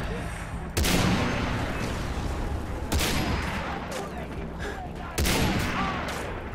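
Sniper rifle fire in the video game Far Cry 3: three loud, sharp shots spaced about two seconds apart, each with a broad crack and a rumbling tail over a steady noisy game background.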